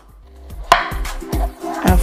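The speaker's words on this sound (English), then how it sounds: "Now, let's go ahead and start chopping" A knife chopping tropical fruit such as rock melon on a cutting board, several sharp close thuds in an uneven rhythm, loud, with no talking.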